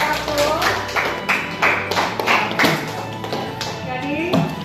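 Classroom applause for a student presentation group, a few seconds of scattered, uneven hand claps and taps in a room, with voices overlapping throughout.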